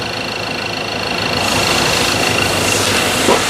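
A Ford Ranger pickup truck engine with a shaking fault runs steadily with a rough, vibrating drone that grows slightly louder partway through, close and continuous.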